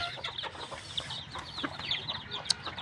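A red junglefowl rooster, kept as a farm bird, gives short, clucking and crowing calls at close range. The calls come in quick bursts, with no talk.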